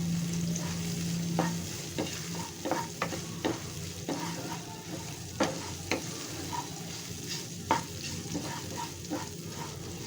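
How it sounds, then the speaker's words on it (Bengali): Panch phoron spices stirred in hot oil for a ridge gourd and prawn dish, a soft steady sizzle under repeated scraping strokes of a spatula against the pan, close and without talk. "পাঁচফোড়নটা ফোড়ন দিয়ে এখন একটু নেড়ে চেড়ে দিচ্ছি"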